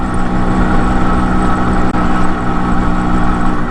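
A motorcycle engine runs at a steady idle close by on a highway stop in Nepal, a continuous loud, even rumble with one tiny dip midway and no talk.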